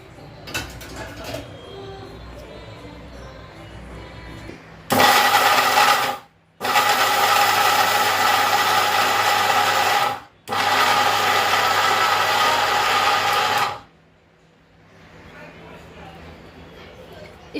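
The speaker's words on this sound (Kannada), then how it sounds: "ಇದೆರಡನ್ನ ಫಸ್ಟ್ ಮಿಕ್ಸಿ ಮಾಡ್ಕೊಳ್ಳೋಣ ಒಂದು ರೌಂಡು." A kitchen mixer grinder pulverizes roasted coriander seeds and chillies for Andhra-style bele saaru, running in three loud, steady bursts with short pauses between them and quieter room sound before and after.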